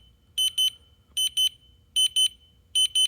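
Interconnected wireless smoke and CO alarms sound during a home test with loud, high, piercing double beeps repeating in a regular pattern, four pairs in quick succession over a low hum.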